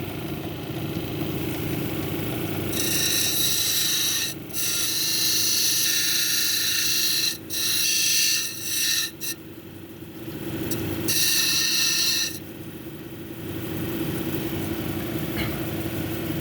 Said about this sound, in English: So we'll start with the 280 grit, do most of the grinding here